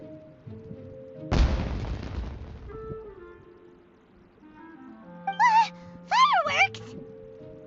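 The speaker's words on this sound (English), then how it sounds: "It sounded like fireworks." Fireworks boom in Genshin Impact: one loud burst followed by a crackling decay, then quieter game sounds and rising whistling tones later on.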